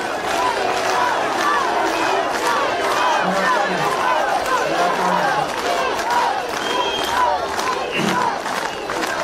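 A large crowd at Nikol Pashinyan's election rally chants and shouts continuously, a loud dense roar of many voices with rhythmic calls throughout.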